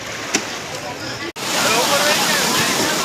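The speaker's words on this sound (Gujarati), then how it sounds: "તો ખૂબ જ પાણી ઉપરથી આવે છે" Water pours down heavily at Gomti Ghat in Dwarka. After a brief cut, a steady, loud, broadband rush fills the rest of the clip.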